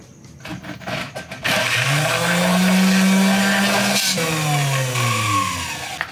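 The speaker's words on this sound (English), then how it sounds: "we're gonna use the Hamilton Beach top-down mixer" A Hamilton Beach top-down drink mixer whirs loudly through a Cobra's Fang cocktail with 151 rum and ice in a metal tin, spinning up quickly to a steady motor hum that shifts pitch and then winds down near the end.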